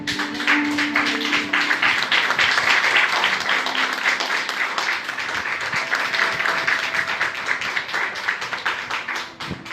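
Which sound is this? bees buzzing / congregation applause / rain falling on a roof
congregation applause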